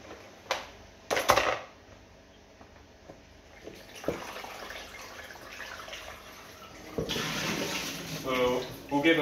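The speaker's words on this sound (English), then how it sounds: "We'll give it one more wash" Fresh nettles swished and rinsed by hand in water, with intermittent splashes and sloshing that swell into a busier, louder wash near the end, with a voice briefly talking.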